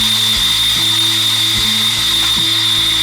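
A Mayflower 560 tire changer bought from Amazon clamps a wheel when its middle pedal is pressed, heard as a loud, constant motor hum broken by a few evenly spaced mechanical clunks, with no talking.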